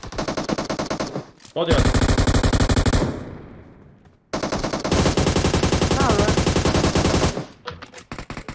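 Automatic gunfire in the PUBG Mobile battle royale game rattles out in loud, sustained bursts with a brief lull in between, while players talk over the shooting.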